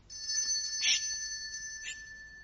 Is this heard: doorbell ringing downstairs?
yes